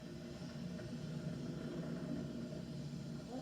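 Distant broadband roar of a Falcon 9 rocket climbing at supersonic speed, a steady rumbling wash heard from far off without any voices.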